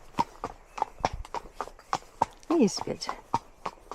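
A ridden horse stepping confidently down a steep hill, hooves clopping in an even walking rhythm up close while the rider talks softly between steps.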